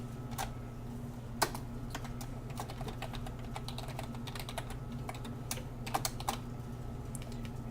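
Steady typing of Java code on a computer keyboard, key clicks arriving in uneven quick runs with a few sharper strikes over a constant low hum.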